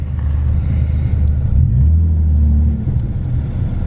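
Toyota Supra engine with a modified exhaust revving once, a deep throaty rumble that swells mid-clip and then settles back to idle, close and loud with no talk.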